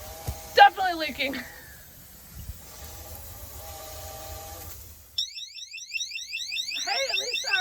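Inside an ambulance converted into an expedition vehicle, a water leak alarm sounds as a rapid, repeating high electronic chirp that pulses steadily near the end, following voices talking and some hissing.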